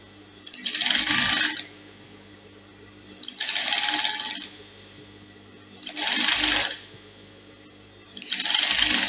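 A sewing machine stitches down a blouse lining in four steady runs of about a second each, separated by short pauses, close and fairly loud with no talking.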